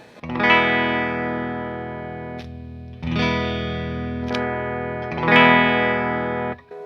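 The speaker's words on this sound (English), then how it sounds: "you hear how much more trebly it gets as I go further this direction" An electric guitar on its bridge pickup plays three long, trebly chords with a distorted, effects-laden edge, each struck and left ringing before the next, close and loud with no talking.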